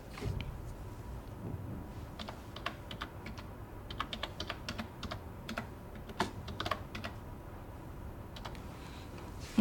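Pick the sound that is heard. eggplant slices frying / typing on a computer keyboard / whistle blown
typing on a computer keyboard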